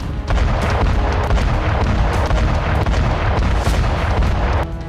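Heavy, continuous rumbling blasts from a Russian Sukhoi-34 missile strike on front-line positions, loud and dense with overlapping booms and no voices.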